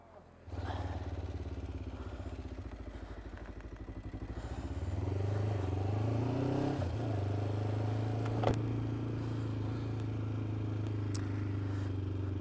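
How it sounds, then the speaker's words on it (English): A Honda VTR 1000, a 1000cc V-twin motorcycle, starts up close and idles with a deep steady thrum, then revs and pulls away, the engine note rising and holding loud. "didn't expect to be riding a 1000cc V-twin today, but yeah, that was good fun"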